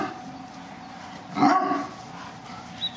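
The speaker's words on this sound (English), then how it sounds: "Big woofy dogs." Big dogs bark outdoors, a single sharp woof rising out of quiet background, followed by a faint yip.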